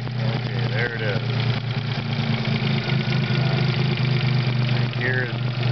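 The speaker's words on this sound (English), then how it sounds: "I hear it's a little more clattery in the lifter there." Geo car engine idling at full operating temperature, a steady low hum with a quick clattering lifter tick running through it, while someone talks over it.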